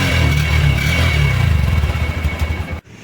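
A Honda Hornet 2.0 motorcycle idles close by with a loud, throbbing exhaust note and some mechanical clatter, steady for almost three seconds before cutting off abruptly.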